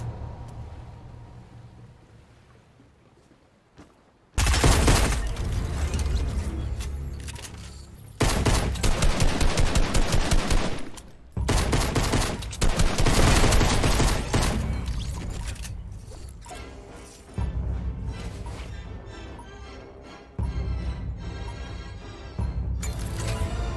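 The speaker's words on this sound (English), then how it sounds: "don't just stand there shooting" Bursts of automatic gunfire in a first-person shooter game in Search & Destroy mode, loud and sustained in several long volleys separated by brief pauses, with mechanical clatter between bursts.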